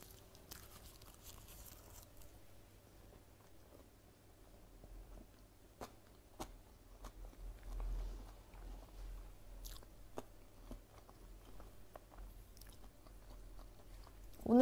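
Someone eats raw tuna sashimi dipped in seasoned soy sauce with green onion kimchi, making faint, close, wet chewing and soft bites in a quiet room with no talking.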